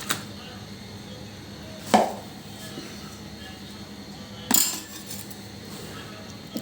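A washed fish being cut with a knife, two distinct chopping knocks on a board a few seconds apart, with quiet room noise in between.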